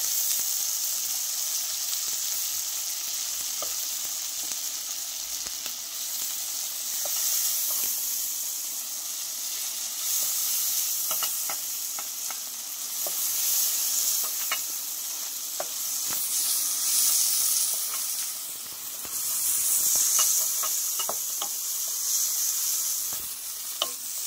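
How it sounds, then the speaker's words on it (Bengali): Shrimp frying in a pan for a fried bhuna, a steady close sizzle and hiss with occasional stirring scrapes, continuous and fairly loud with no talking. "এখন আমি মাছগুলো ভাজা হয়ে গেছে, এখন তুলে নেব।"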